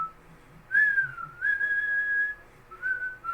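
A single person whistles a melodic tune in three sustained phrases with brief pauses between them, clear and fairly close against a quiet background.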